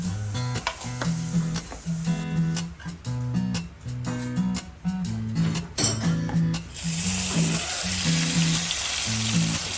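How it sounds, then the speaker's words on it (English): Shrimp okoy batter fries in hot oil. A steady sizzle comes up strongest near the end, under a rhythmic musical backing that runs through the whole clip. "Make sure your oil is hot enough before putting your mixture in the oil."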